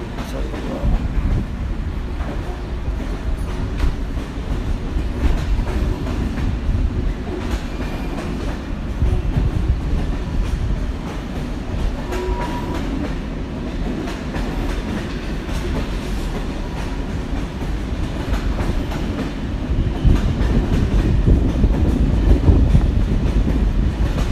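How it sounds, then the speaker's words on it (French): A train set being shunted from one track to another at a rainy, windy station, heard as a continuous low rumble of rolling rail cars with faint clicking wheels, steady and moderately distant, with wind and rain noise throughout. "il bouge la rame d'une voie sur l'autre"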